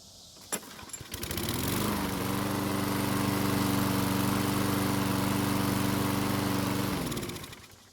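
A Troy-Bilt lawn mower, primed with fuel in the carburetor throat, catches after a couple of pull-start clatters and settles into a loud, steady, close engine drone for about five seconds before winding down and cutting out.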